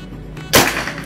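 A PCP hunting air rifle fires a single sharp, loud report partway through, with a short decaying tail after the crack.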